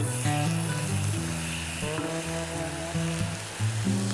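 Peppers and onions sizzle on a Blackstone griddle, a steady hiss half buried beneath loud, tuneful background music throughout.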